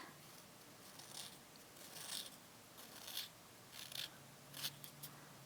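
Quiet rasping strokes of a small file on a small sculpted pumpkin piece, several short bursts at an uneven pace, close by with no talking.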